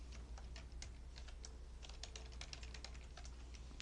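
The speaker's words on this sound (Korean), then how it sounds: "탭키 누르고 오른쪽으로 갑니다." Steady computer keyboard typing during accounting data entry, including presses of the Tab key: a dense run of light clicks at an even pace, close and quiet, with no voice over it.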